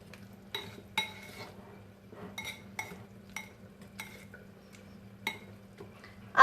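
Aubergine and ricotta being gently mixed: a spoon or utensil makes a run of light, scattered clinks and scrapes against the bowl, soft and close, with a quiet steady hum underneath and no talking.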